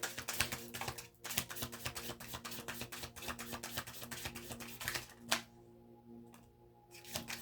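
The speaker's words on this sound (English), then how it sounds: "I'm gonna try one more little shuffle." Tarot cards being shuffled by hand during a reading, a dense run of quick crisp riffling and flicking clicks close to the mic, easing off briefly near the end, with no talking.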